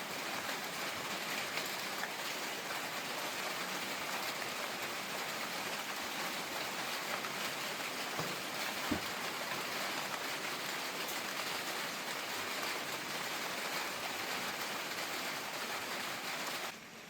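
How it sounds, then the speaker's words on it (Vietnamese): Steady rain pours down outdoors in Vietnam, a dense continuous hiss of drops on surfaces that holds at an even level throughout, with no talk. "Tự nhiên lại mưa xuống rồi."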